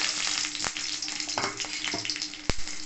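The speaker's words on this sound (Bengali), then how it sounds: "সর্ষে এখানে ফুটে গেলে আমি এখানে একটা শুকনো লঙ্কা আর একটা কাঁচা লঙ্কা দিয়ে দিলাম" Black mustard seeds with a dried red chilli and a green chilli frying in hot oil, giving a close crackling sizzle broken by a few sharp pops and stirring scrapes.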